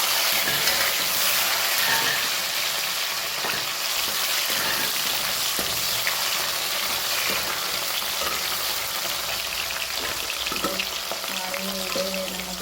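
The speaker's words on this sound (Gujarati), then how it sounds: "હવે આપણે એમાં ટામેટા એડ કરીશું." Tomatoes hitting hot oil with cumin seeds while tempering for vaghareli khichdi, a steady dense sizzle that runs the whole time with a few faint clinks, close and fairly loud.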